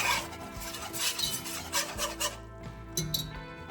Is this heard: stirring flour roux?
yes